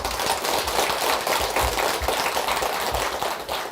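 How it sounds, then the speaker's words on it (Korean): Live studio audience at a Buddhist dharma talk applauding, steady dense clapping throughout, loud and close with no pauses. "오늘 박수 소리도 크고"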